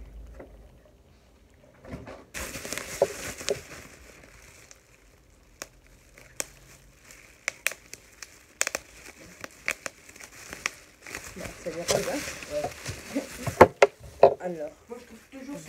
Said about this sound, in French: Le papier bulle.